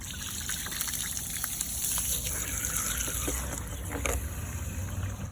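Water pours steadily into the fuel tank of a Yamaha PW80 dirt bike, a continuous close gushing and trickling wash filling the whole stretch with no talk over it.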